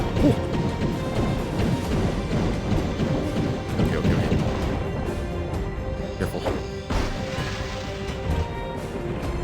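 Stained glass shattering in the video game Heretic/Hexen, a loud dense crash with scattered breaking hits amid game noise, with brief talk over it.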